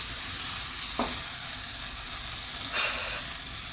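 Shrimp stir-fried in a pan with chili and salt sizzles in a steady hiss, with two brief scraping stirs of the pan standing out above the constant frying.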